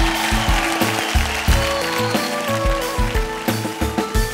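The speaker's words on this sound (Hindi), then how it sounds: "जोरदार तालियां संगीता जी के लिए।" Loud applause from a studio audience on a Hindi television talent show, with the clapping mixed under strong rhythmic music with a pounding beat.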